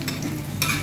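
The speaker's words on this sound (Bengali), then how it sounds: "ভাজা হয়ে গেছে দু পিঠে।" Egg fritters for an egg chaat bora dish frying in oil in a pan, giving a steady soft sizzle with a brighter burst of crackle near the end, close and alone.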